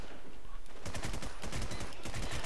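Rapid bursts of gunfire in the online shooter War Inc. Battlezone, sharp clustered shots repeating loudly through the second half after a quieter, noisy start, with no talking.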